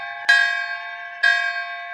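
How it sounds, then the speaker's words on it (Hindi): A village temple bell at night is struck twice about a second apart. Each strike gives a bright metallic clang that rings on in a clear, sustained tone over near silence. "रात को गांव के मंदिर में घंटियां बजने लगी।"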